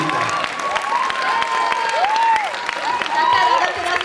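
Steady applause and scattered cheering from an audience in a Topoľčany cinema follow a dance choreography called Na bále, with voices calling over the clapping at a fairly constant level.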